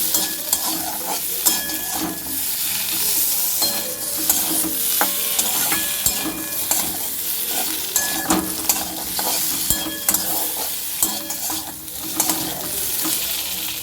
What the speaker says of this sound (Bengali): মাছ সমেত আলু আর মাছ একসাথে মশলার সাথে কষাচ্ছি